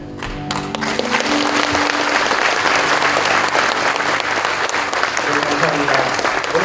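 A church audience gives a guest pastor sustained, dense applause after a special lecture at a men's mission national convention in a resort hall in Gyeongju. The clapping is loud and continuous throughout.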